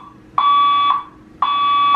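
An apartment building fire alarm sounds loud and close in two long, steady electronic tones, each lasting about half a second and separated by a short pause.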